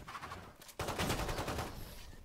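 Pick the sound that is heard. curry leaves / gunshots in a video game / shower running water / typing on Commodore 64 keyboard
gunshots in a video game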